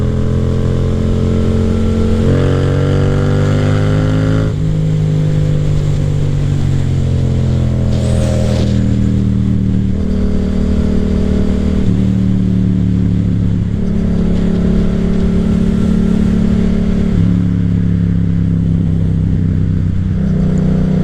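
A Yamaha FZ-07 motorcycle engine growls loudly and steadily, revving up and easing off repeatedly throughout, close and continuous.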